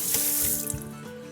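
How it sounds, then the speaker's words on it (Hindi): Tap water runs into a sink while a vessel is rinsed to wash starch from grated potatoes, a short close splashing gush with small sloshes and drips, no voices. "तो इसको हम बर्तन को वॉश कर लेंगे"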